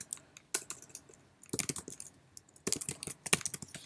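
Typing on a computer keyboard comes in three quick clusters of close, crisp key clicks separated by short pauses, with no voice.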